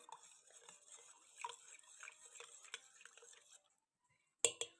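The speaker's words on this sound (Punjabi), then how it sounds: "ਹੁਣ ਅਸੀਂ ਚਮਚ ਨਾਲ ਹਿਲਾ ਲਾਂਗੇ" A spoon stirring a freshly made cup of tea, faint clinks and scraping against the cup in a loose rhythm for a few seconds, then quiet followed by a couple of sharp taps near the end.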